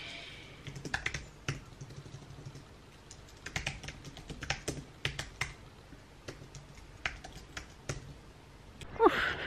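Quiet typing on a computer keyboard indoors, irregular soft key clicks in short clusters spread across the stretch, with a slightly louder clatter near the end.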